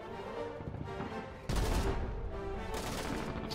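An artillery gun fires in the war game Foxhole, a sharp boom partway through that rolls into a sustained rumble over distant battle noise, with no one talking.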